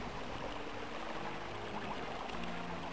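Continuous rushing water current from the video game Star Wars: Dark Forces, a steady, fairly quiet broadband wash with faint low tonal hum from the game beneath.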